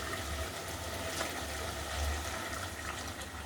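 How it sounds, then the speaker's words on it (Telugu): Water pours steadily into a cooking pot of thalakaya kura to make gravy, a soft continuous gush at moderate distance with no talk. "దీనికి సరిపడా వాటర్ వేసేస్తాను"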